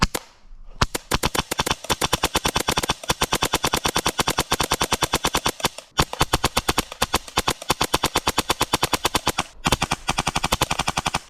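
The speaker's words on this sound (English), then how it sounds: "now let's see how fast this guy shoots on semi-automatic" Rapid semi-automatic airsoft gun fire, a long fast string of sharp, evenly spaced snapping shots close to the listener, with two short pauses between volleys and no talking.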